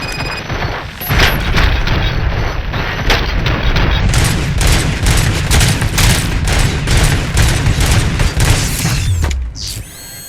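Gunfire in the RoboCop: Rogue City video game, a loud, sustained barrage of rapid, close shots and booms that pound almost continuously for several seconds before cutting off.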